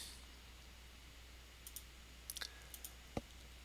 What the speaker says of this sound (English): let me just type in test